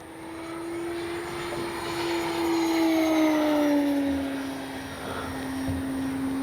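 FMS 1400mm Pitts V2 radio-controlled model plane diving at full speed, its electric motor giving a steady high whine whose pitch slides gradually downward as it passes, fairly close and without talk.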